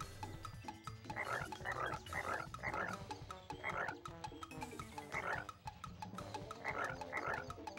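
Little frogs in a jar in a Winnie the Pooh video game croak in repeated short, raspy bursts. The calls come in clusters over a low, steady ambient hum at moderate volume, with no voices.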